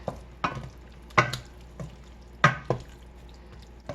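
A spoon stirs corn into an okra, tomato and beef stew in a pot, making a few separate soft scrapes and wet clicks spaced out over several seconds, with no talking.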